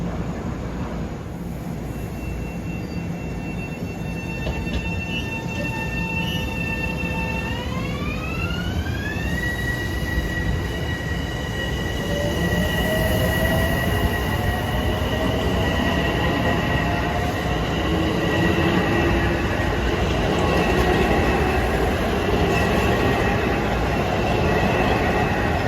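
A Long Island Rail Road MU electric commuter train passes at Farmingdale, going under an old signal bridge and over an interlocking, with a steady loud rumble, wheel and rail noise, and rising and falling whining motor tones throughout.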